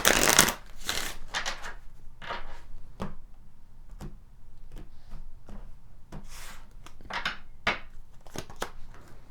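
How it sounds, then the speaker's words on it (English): Kipper fortune-telling cards are shuffled and pulled, a loud riffle at the start followed by scattered soft flicks and slaps of individual cards at close range, with no talk. "Let's pull some additional Kipper cards to see what else we get here."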